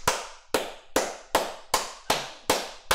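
Seven sharp hand claps ring out in an even rhythm about half a second apart, each with a short reverberant tail in a room, with no other sound.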